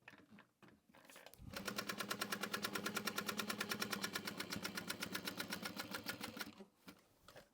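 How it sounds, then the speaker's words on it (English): A sewing machine stitches a pocket onto a tote bag, running in one fast, steady burst of rapid rhythmic thumping for about five seconds, with soft handling sounds before and after. "normally I don't like to sew around every box or every side of the box,"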